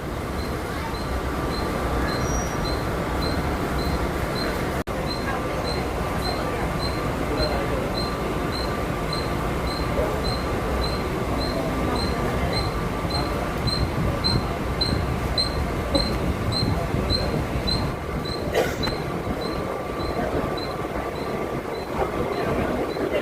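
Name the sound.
Mumbai suburban local train running, Churchgate–Virar line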